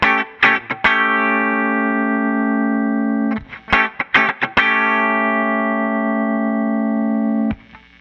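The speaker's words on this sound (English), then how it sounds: "That's, to me, is a poorly set compressor." Electric guitar run through a Line 6 Helix Deluxe Comp compressor set hard at full mix with heavy makeup gain: a few picked chords, their attack squashed, then long sustained swelling notes that ring out alone.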